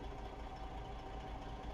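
A truck engine idling in American Truck Simulator, a low steady rumble with a faint rhythmic knock, quiet and continuous for a brief moment with no talk.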